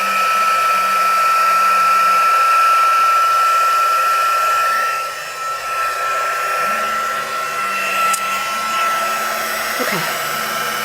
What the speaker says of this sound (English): start your heat tool